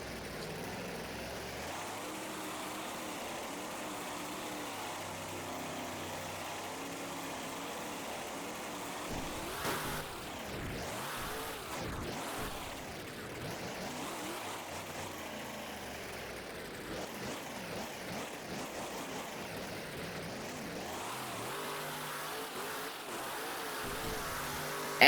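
Monster truck engine at a Monster Jam event on a wet track, a distant broadband roar that swells into revving bursts around the middle, heard from afar amid arena ambience.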